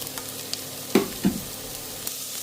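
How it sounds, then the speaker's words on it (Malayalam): Sliced onions and shallots sautéing in a pan for a beef dish: a soft steady sizzle with two brief stirring scrapes, close and alone without speech. "എല്ലാം കൂടെ മിക്സ് ചെയ്ത് നന്നായി മുരിഞ്ഞ് വരുന്നത് വരെ വഴറ്റി കൊടുക്കാം."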